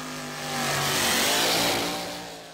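A drag racing car at the Pacific Energy Quarter Mile Drag Race revs its engine, the note climbing and swelling to a loud peak midway before easing off, with no talk over it.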